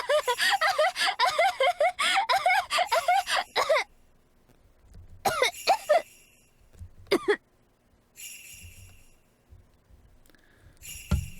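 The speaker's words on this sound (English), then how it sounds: "I kept laughing until it turned into a cough." Someone laughs in a rapid, breathy burst that breaks into a few scattered coughs and throat sounds, with quiet gaps between them.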